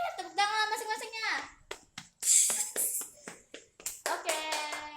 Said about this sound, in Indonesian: Tepuk tangan masing-masingnya.